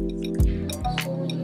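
Paper pulp and water poured into a tub for handmade paper, with a few wet drips and a liquid splash over a low steady hum, close and fairly quiet.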